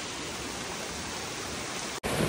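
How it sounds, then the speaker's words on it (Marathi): Heavy rain pours in a steady, dense broadband roar that barely changes, loud and close, with a brief cut near the end before the downpour resumes. "फुल ऑन पाऊस, फुल ऑन पाऊस."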